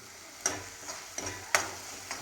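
Onion, garlic and tomato fry on a high gas flame for a Punjabi tamarind dish, a soft continuous sizzle broken by a few distinct scraping stirs of a spoon in the pan, close and quiet without talk.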